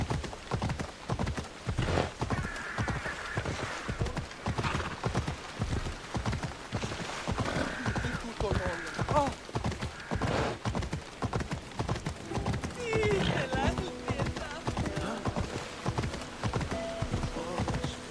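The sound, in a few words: horse galloping in Assassin's Creed video game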